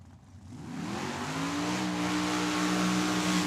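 A dragster engine at Tucson Dragway during a Cactus Clash drag racing event rises in pitch as it revs, then holds a loud, steady roar near the listener with no other sounds.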